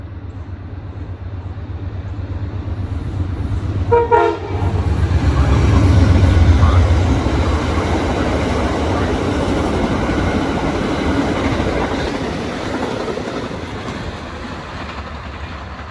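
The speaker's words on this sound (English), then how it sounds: "Here comes Amtrak. Just heard it hit the defect detector. It's on track 3." Amtrak passenger train rushing past on track 3, a loud close roar of wheels on rails that swells as it arrives and holds steady, with a brief horn-like tone near the start.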